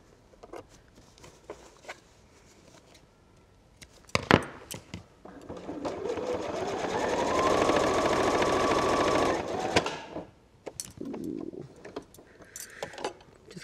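A sewing machine runs steadily for a few seconds while stitching a lined fabric pouch, preceded and followed by scattered clicks and handling noises, close and moderately loud.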